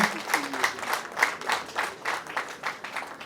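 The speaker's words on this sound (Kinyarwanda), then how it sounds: "amashyi menshi cyane twakira umukwe Elisa." Rhythmic group clapping at a wedding greets the arriving groom, a steady, lively beat of many hands with a faint murmur of the crowd beneath.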